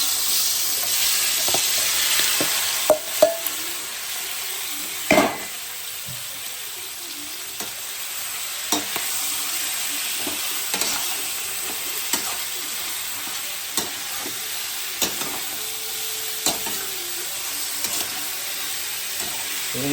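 Undhiyu frying in oil gives a steady, close sizzle, broken by occasional scrapes and clinks of a stirring utensil, with no speech.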